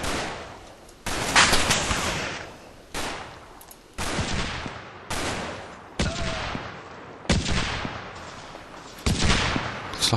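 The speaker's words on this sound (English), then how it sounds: "Looks like I'm dropping grenades on them." Grenade explosions and gunfire in the Combat Mission video game: a series of sharp, loud blasts roughly every second or two, each fading into rumbling decay, with scattered shots between them.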